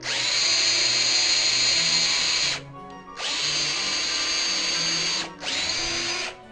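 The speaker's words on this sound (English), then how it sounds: "start drilling the hole for the new dowel" A power drill whines steadily and loudly up close, briefly easing off twice before spinning back up, with no talking, drilling a dowel hole in wood with a jig on an antique chair.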